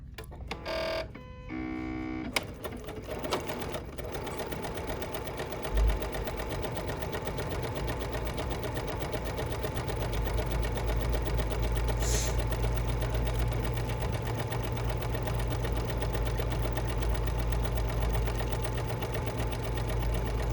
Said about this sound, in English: we're going to just stitch this, keeping the sides of our fabric parallel to the side of the presser foot